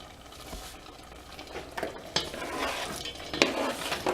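Stirring in a pot of vegan stuffing on a rapid boil as celery goes in, with scraping spoon strokes and bubbling, soft clinks at intervals and a sharper knock near the end.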